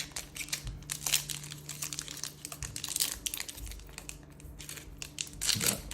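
Blizzard Legacy Collection trading card booster pack wrapper crinkling and tearing open, a steady close-up rustle of foil with a few sharper crackles, no talking.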